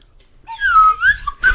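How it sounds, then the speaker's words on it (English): A slide whistle gives a short, loud, close wavering tone that slides down, swoops back up and drops off, followed by a brief final toot. "Oh, that's my new magic slide whistle that I got"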